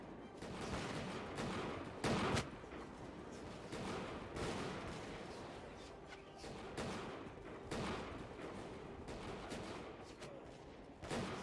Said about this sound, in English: There are enemies in the tower on the left that are firing at us